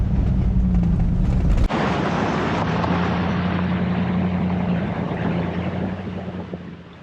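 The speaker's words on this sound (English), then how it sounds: "man, I love the sound of an LS V8" A Chevrolet Silverado with an LS V8 driving on a dirt trail, a deep steady engine drone under rushing wind noise, with a brief drop in engine tone near the start as the drive carries on.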